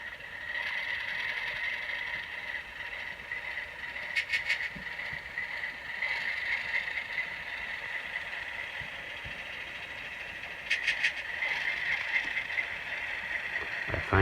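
Faint, steady mechanical hum and rumble from a model train locomotive's sound decoder, a Tsunami 2 or Kato soundbox, with a few short bell-like chime bursts, distant and low throughout.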